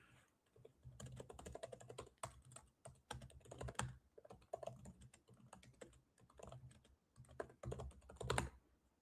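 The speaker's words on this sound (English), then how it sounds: "I don't know how loud that typing is." Rapid, irregular typing on a computer keyboard, close and fairly loud, with bursts of key clacks and brief pauses and no talking.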